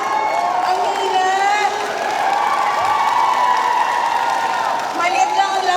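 Applause and cheering from a crowd at a reunion party, a steady continuous roar lasting throughout, with whoops and raised voices and talk mixed into the noise.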